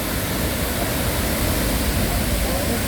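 La Fortuna waterfall in Costa Rica pours in a dense, unbroken broadband rush of falling water, loud and close, steady from start to end with no distinct voices.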